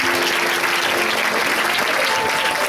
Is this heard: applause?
yes